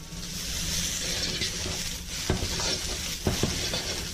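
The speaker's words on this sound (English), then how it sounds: "give that a really quick mix because we want the oil" Bean sprouts and green onion stir-fried in oil for beef chow fun, giving a steady close sizzle with a few sharp scraping clanks of a utensil tossing them in the pan.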